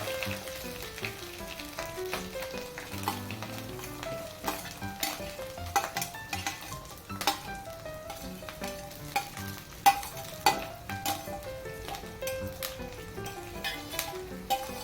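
Ginger-garlic paste for Veg Manchurian sautéing in a hot pan, with a steady close sizzle and repeated sharp clinks and scrapes of a spoon stirring against the metal.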